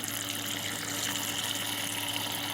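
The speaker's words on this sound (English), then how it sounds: "top off the water" Water pours from a water bottle into a tank in a steady, continuous trickling splash, fairly quiet and unbroken throughout.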